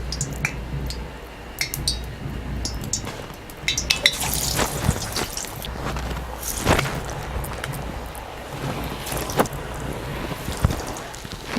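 Sweet potato vadai batter frying in hot oil, with a steady low sizzle and crackle running throughout, broken by occasional clinks and scrapes of utensils against the pan.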